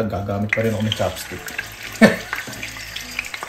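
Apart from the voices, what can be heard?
stir-frying thinly sliced beef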